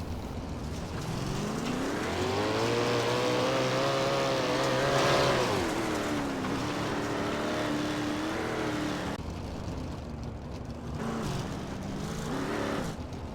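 410 winged sprint cars race at Knoxville, their engines roaring at full throttle, rising and falling in pitch as they pass close by, with a continuous loud drone of the field throughout.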